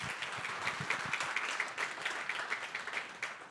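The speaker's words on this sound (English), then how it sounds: "let's give another round of applause for all of our participants tonight." Audience applause at a National Civics Bee event in Wayne County, Indiana, honoring the participants: dense, steady clapping from a hall full of people, moderately loud and sustained, with scattered sharper claps near the start and no talking over it.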